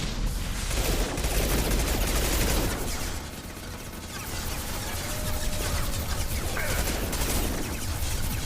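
Rapid machine pistol fire in a video game battle, dense sustained bursts of crackling shots, loud and close, easing slightly after a few seconds then continuing in a steady rattling barrage.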